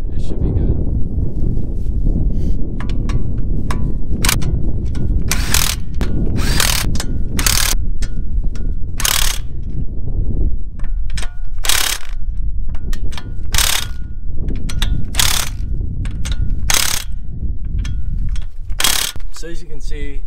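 A ratcheting torque stick rated at 100 foot-pounds tightens lug nuts on a Nissan 350Z wheel, a loud continuous mechanical whir broken by sharp ratchet clicks in bursts, close by, with a voice heard over it.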